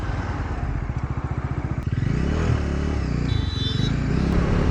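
A heavily modified Bajaj Pulsar motorcycle ridden along an open road, its engine throbbing loudly up close, then settling into a steady, buzzing drone mixed with wind rush.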